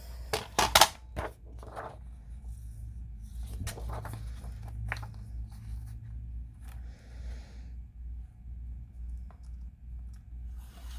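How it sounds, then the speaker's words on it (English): Scissors cutting paper planner inserts, a few sharp, close snips at the start followed by quieter intermittent cutting and paper rustling over a low background hum. "Let's go ahead and cut this down."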